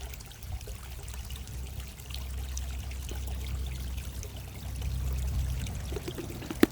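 Water flows and trickles steadily from a hose into an outdoor pond, a soft, low continuous pour that swells slightly near the end.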